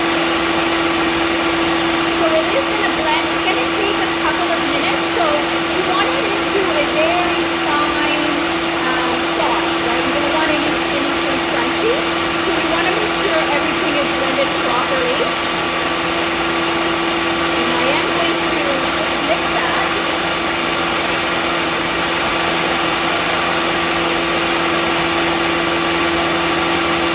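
A blender purees curry ingredients for chicken kuku paka, its motor droning steadily and loudly at an unchanging pitch, with faint speech in the background.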